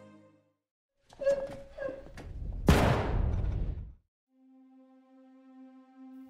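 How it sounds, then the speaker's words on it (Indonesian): A single sharp, loud gunshot with a long decaying tail, preceded by brief muffled movement and followed by a low steady hum. "Seketika suara tembakan memecah keheningan."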